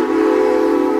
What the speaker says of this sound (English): Never try and talk over a train, especially this one here, it's so noisy